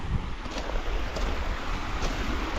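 Steady rushing wind over open water off an island shore, with a continuous wash of waves breaking, loud and close, and no talking.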